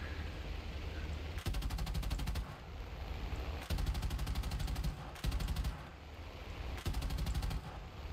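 Machine gun fire in the War Thunder video game, heard as four or five sustained rapid bursts of a few seconds each, loud and close, separated by short gaps over a steady low engine rumble.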